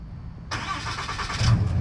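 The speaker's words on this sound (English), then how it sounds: "And the Cummins diesel engine comes to life." A 2021 Ram 3500 Big Horn pickup's Cummins diesel engine cranks over and catches at about half a second, then settles into a loud, rough idle close by.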